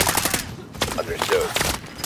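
Rapid bursts of automatic gunfire crackle loudly and almost continuously in a shooter video game, shots overlapping in dense fusillades.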